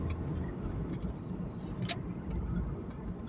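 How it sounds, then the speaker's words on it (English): Road traffic rumbles steadily in the background, a car passing with a broad engine and tire roar and a few faint ticking noises. "Fucking traffic."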